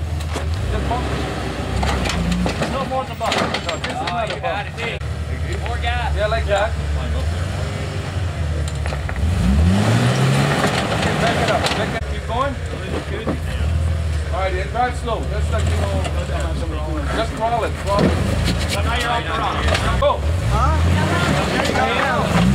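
An off-road vehicle's engine drones and revs steadily as it crawls over rocks in Johnson Valley, loud and continuous throughout while people talk over it, calling out driving directions.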